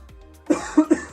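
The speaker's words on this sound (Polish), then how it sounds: "Przepraszam jeszcze raz za kaszel." A short run of three quick, dry coughs from close by, each a brief rough burst, spaced a fraction of a second apart.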